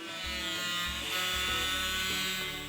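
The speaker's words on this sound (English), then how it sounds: "Using an angle grinder, carefully cut the entire drum in half." An angle grinder cuts around a polypropylene IBC drum, giving a loud, steady whine over a low droning hum that runs continuously with slight shifts in pitch.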